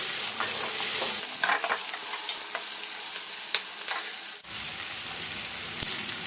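Green chillies sizzle in hot oil in a pan for lemon rice, a dense close frying hiss with scraping stirs and occasional spatter pops throughout.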